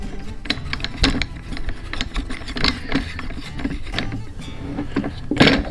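A screw being driven into a wooden bar with a depth stop on a chopstick-making jig: a close series of irregular ratcheting clicks and grinding turns, with a sharper burst near the end and no talking.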